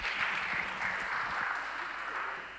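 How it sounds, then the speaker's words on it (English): An audience claps at a business presentation on public financial management, a steady wash of applause that holds for a couple of seconds and then eases off slightly. "Can you give me a clap?"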